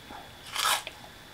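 A single crunchy bite into Magic Spoon peanut butter cereal, a loud burst of crisp crackling lasting about a quarter second with a small trailing crunch after, close up and with no talk.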